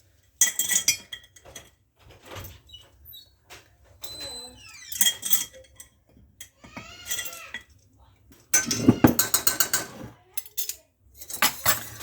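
A whisk clinks and scrapes rhythmically against a pan while flour is worked into butter melted over medium-low heat, in uneven bursts separated by pauses, with brief talking in between.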